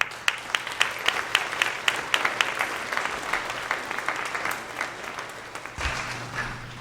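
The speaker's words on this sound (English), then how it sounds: "give a warm round of applause and a warm welcome to our dynamic class family" Audience applause welcoming speakers at a youth assembly forum on employment, a dense, steady wash of many hands clapping with sharp individual claps standing out near the front, fading slightly toward the end.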